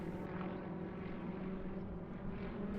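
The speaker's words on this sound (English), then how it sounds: "they fly the Yak-52, another excellent Soviet-era aerobatic aeroplane" A Soviet-era Yak-52 aerobatic propeller aeroplane drones through a display at the Portugal Air Summit airshow, its engine a steady, fairly distant hum with no talking over it.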